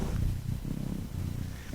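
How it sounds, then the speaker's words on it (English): A cat purrs close by in a quiet indoor spot, a low rhythmic rumbling that pulses with each breath in and out, steady and alone. "is pleading with you now as he purrs"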